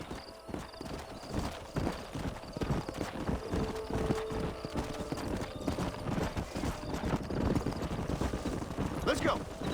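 Horses trotting in the video game Red Dead Redemption 2, continuous overlapping clip-clop hoofbeats on a ranch trail, moderately loud, with a brief whinny near the end and faint voices underneath.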